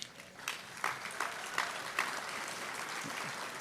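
Audience applause at a 2024 PCASA Hall of Fame ceremony, a moderate patter of clapping from a seated crowd that rises after a moment and holds steady, fairly distant and not very loud.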